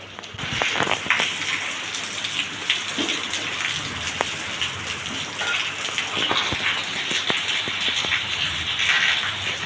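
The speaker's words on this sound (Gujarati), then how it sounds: "છ ને પાંચ મિનિટ થઈ ત્યાં વરસાદ આવી ગયો" Heavy rain pours down steadily on outdoor surfaces with a constant dense hiss and scattered louder drops and splashes, no voices, throughout.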